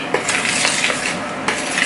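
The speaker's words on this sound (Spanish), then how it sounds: "Ahora vamos a mezclar esto. Mezclamos los ingredientes secos" Dry ingredients for pan de bono cheese bread being stirred in a bowl, a steady scraping and tapping of a utensil with a few sharper clinks, close and moderately loud, with no talking.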